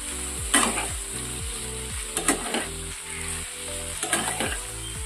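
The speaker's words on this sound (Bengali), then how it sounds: "আলুগুলো ভালো করে নেড়ে নিতে হবে। আলুগুলোকে ভালো করে ভেজে নিন।" Potatoes frying in plenty of oil with turmeric, a constant close sizzle punctuated by three sharp scraping strokes of a spatula stirring the pan.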